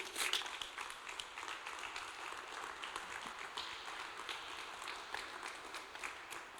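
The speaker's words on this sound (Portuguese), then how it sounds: "Uma salva de palmas para Jesus." A church congregation applauds during a Sunday service, with soft, steady clapping that carries on evenly and sounds fairly distant in the hall.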